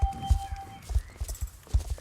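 Horse hooves galloping in the online riding game Star Stable Online, a steady clip-clop beat of strong, close hoof strikes repeating about every half second, with a faint tone and soft game sounds in the background.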